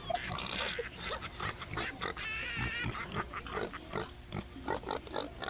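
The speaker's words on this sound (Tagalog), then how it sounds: "Sinama ko kasi yung baboy namin dito sa studio eh." A pig in a radio studio grunts and oinks repeatedly in an irregular, snorting rhythm, close and clear, with no talk over it.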